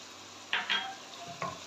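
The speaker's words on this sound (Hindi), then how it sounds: "यहाँ पे मैं इसके अंदर शामिल कर दूँगी स्लाइस में कटी हुई हरी मिर्चें और अदरक" Sliced green chillies and ginger drop into a chicken handi and sizzle, with a few stirring scrapes over a soft steady frying hiss.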